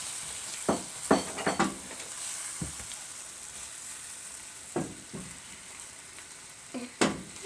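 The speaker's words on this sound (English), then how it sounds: "as soon as it hits the pan, you want to go ahead and stir it up so it doesn't stick" Matzah brei frying in a pan, with a soft continuous sizzle under repeated scraping stirs of a spatula, close, with clustered knocks and scrapes separated by quieter stretches of frying.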